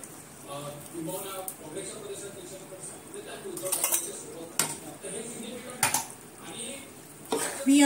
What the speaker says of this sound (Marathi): मी आता हे चांगलं मिक्स करून घेते।